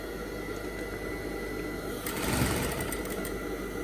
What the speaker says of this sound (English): Switch on your machine nicely. So start sewing gently, and this is for your reverse stitch.